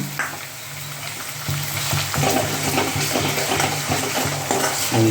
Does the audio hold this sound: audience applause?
no